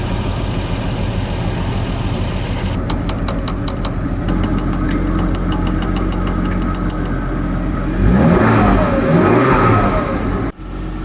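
Classic Jaguar XJS engine revving smoothly after its seized fuel injectors were freed by tapping, a loud steady running note with a rising rev near the end.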